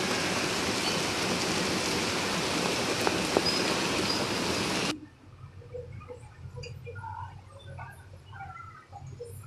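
A steady, dense rush of rainwater pours loudly from a roof pipe, then cuts off abruptly, leaving quieter background sounds with faint scattered chirps and noises.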